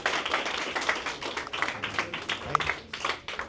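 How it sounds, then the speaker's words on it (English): Students at J.P. Torres Success Academy give a few seconds of scattered, uneven clapping, close and moderately loud, with no talk over it. "Just give him a round of applause."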